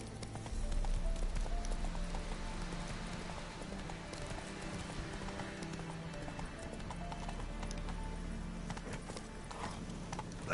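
A horse in a PS4 video game gallops along, its hooves clip-clopping in a fast, even rhythm over a continuous game soundscape, with a brief whinny-like cue and no talking.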